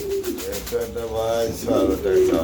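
Pigeons coo at a pigeon market where hens are being sold, their soft rolling calls rising and falling close by and continuing throughout, growing louder toward the end amid background chatter.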